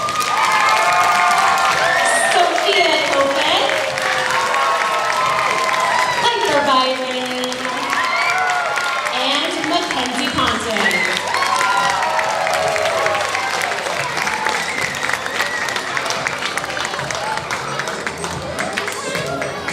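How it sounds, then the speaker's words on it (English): Loud school-assembly crowd cheering and applauding for students at a 5th grade farewell, a dense sustained roar of children's shouts and clapping with an announcer's voice breaking through now and then. "please join me in giving a big round of applause"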